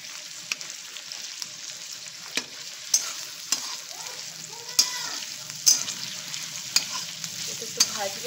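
Ingredients for biryani frying in a pan, a steady close sizzle broken by sharp clicks and scrapes of a stirring utensil, with no talking.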